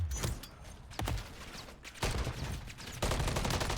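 Rapid bursts of gunfire in Modern Warfare 3 ranked play, several loud volleys in quick succession with short gaps between them.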